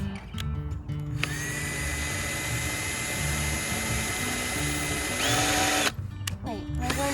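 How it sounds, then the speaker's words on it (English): A handheld power drill bores a small pilot hole for a screw to mount a bird house, whirring in steady bursts with brief stops and restarts, close and fairly loud, with a voice speaking over it. "use my drill bit and drill a little hole, a little bit smaller than this screw."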